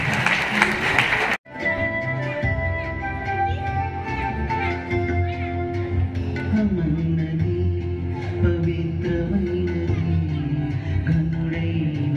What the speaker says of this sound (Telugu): అందరు బిగ్గరగా క్లాప్స్ కొడతాం.